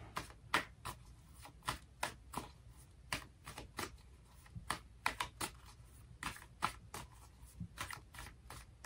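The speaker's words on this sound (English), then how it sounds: "let me pull some cards from the universe here for you" Tarot cards pulled and shuffled from a deck, a series of sharp, close papery flicks and slaps in an irregular rhythm, heard alone in a quiet room.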